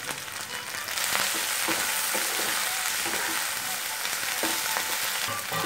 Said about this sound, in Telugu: ప్యాన్లో కొద్దిగా నూనె వేసుకొని ఈ ఉల్లిపాయలు వేద్దామండి. ఇప్పుడు పచ్చిమిరపకాయలు వేద్దామండి, బెండకాయ ముక్కలు కూడా వేసుకుందాం